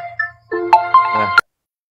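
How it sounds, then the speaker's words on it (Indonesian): A phone ringtone sounds for an incoming call, a bright melodic tone sequence of several rising and falling notes lasting about a second and a half, fairly loud and close, then cutting off into silence. "Ini ada telepon ya."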